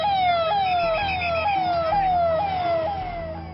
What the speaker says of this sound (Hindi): आपके टीवी स्क्रीन पर दौड़ रही एम्बुलेंस कई लोगों की नई जिंदगी या फिर जीने का नया हौसला देने जा रही है